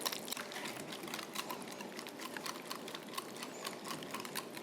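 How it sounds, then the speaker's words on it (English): Whisking a honey chipotle yogurt sauce with whole jalapenos in a bowl, heard as a steady, fast, soft clicking and scraping that continues through the whole stretch without talk. "Now I'm gonna whisk this together."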